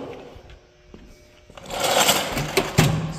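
Ramp truck engine, newly fitted with flex joints, cranking and catching after sitting a while, a quiet idle rising into a louder, rough mechanical rumble up close.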